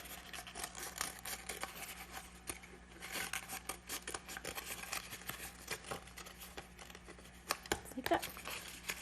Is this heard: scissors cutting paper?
yes